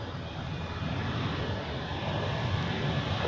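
Airliner on a flight to Stuttgart at Zurich Airport, a steady broadband jet engine roar heard from a distance, constant and unbroken throughout.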